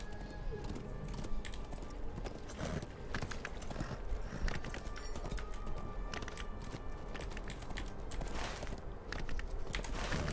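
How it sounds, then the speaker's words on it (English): Horse hooves clip-clop in Lord of the Rings Online, a steady run of hoofbeats over a busy game soundscape with music, while a voice talks over them. "Go, horse, go!"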